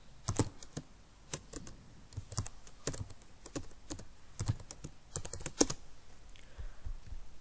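Keystrokes on a computer keyboard while text is entered into an MS Word document, a sequence of crisp clicks in irregular bursts with brief pauses, close and clear, with no voices present.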